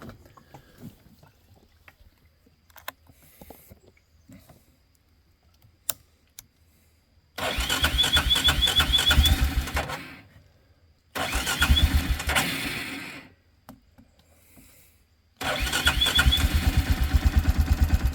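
An ATV four-wheeler left sitting for a week and a half cranks in three loud bursts of starter grinding and sputtering engine, separated by short pauses, after several seconds of quiet rustling.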